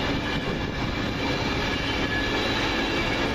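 A delayed Virgin Trains East Coast service led by locomotive 82225 departing toward London King's Cross, a steady loud rumble with faint wheel noise and no talk.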